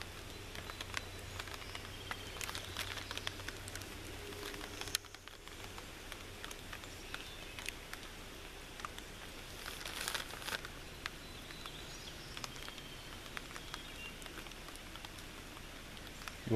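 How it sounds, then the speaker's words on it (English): Rain begins falling outdoors during a bow drill fire-lighting attempt using crackcap fungus, heard as faint, scattered patter and crinkly drops on surfaces with soft rustling, quiet and continuous with no talk. "And of course it would start raining."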